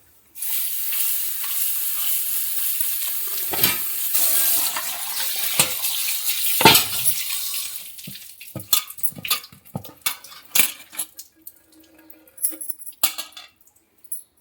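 Fenugreek leaves being washed, with a steady rush of running water for several seconds, then irregular splashes and sloshing as the leaves are swished by hand, close and clear, with no talk.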